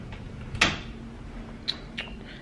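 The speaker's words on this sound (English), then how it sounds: "Let me shut my door." A bedroom door is pushed shut in a quiet home, one clear close thump followed by a couple of softer knocks, near and alone with no talk.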